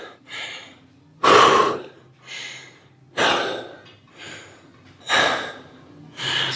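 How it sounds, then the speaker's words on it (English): Heavy, gasping breaths between leg-day workout sets at a gym, about six loud, close inhale-exhale cycles in a steady rhythm, with no talking. "if you're not breathing like this in between your sets, something ain't right with your workout"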